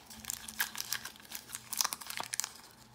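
Marble nail art foils crinkle and rustle as they are handled, with quick, close, light crackles in irregular bursts and no talking.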